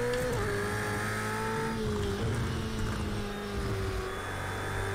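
Race cars in Project Cars 2 drone steadily at high revs, a loud sustained engine whine that shifts pitch as the cars corner, with other cars' motors blending in the background and no talking.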